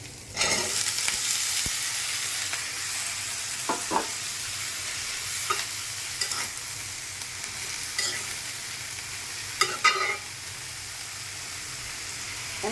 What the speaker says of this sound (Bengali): এখন শাপলা দিয়ে দিলাম